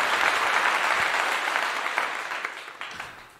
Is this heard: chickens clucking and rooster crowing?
no